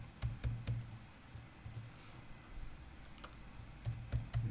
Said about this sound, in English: I'm going to type congratulations